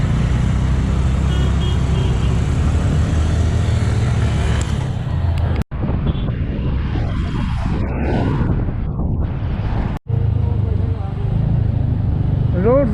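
A motorcycle ridden on rough, bumpy roads through Kolkata traffic, with a continuous engine and road rumble and traffic noise around it, while a rider talks over it throughout.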